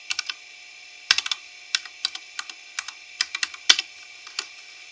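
A password typed on a computer keyboard during a Slackware Linux install: about twenty sharp, close key clicks in irregular bursts and short runs, with quiet gaps between them and no talking.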